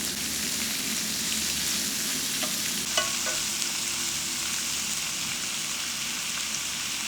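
Shrimp frying in oil in a skillet, a loud, dense, continuous sizzle that stays even throughout, with a few faint clicks of a utensil; no voices.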